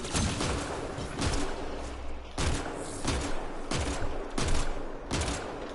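Gunfire in the sci-fi shooter Mass Effect Andromeda, a run of sharp, loud bursts arriving every second or so over a continuous rumble of combat, with no one talking.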